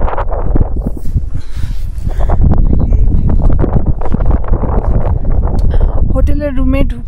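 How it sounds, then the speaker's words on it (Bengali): Strong wind blows across the microphone at a hotel room overlooking Tso Moriri lake in the Trans-Himalaya, a loud, continuous buffeting rumble throughout, with a brief voice near the end. "কি হাওয়া দিচ্ছে!"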